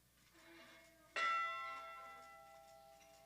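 A single memorial bell strike rings out after a quiet moment at a ceremony for mariners lost on the Great Lakes, its bright tone lingering and slowly fading with a long sustained hum.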